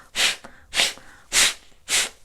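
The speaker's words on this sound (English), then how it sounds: "you do it in this kind of staccato, pushing out air" Kapalabhati breathing: four forceful, staccato nasal exhalations pushed out in a steady rhythm, each a loud, close, breathy burst with short quiet gaps between, and no talk.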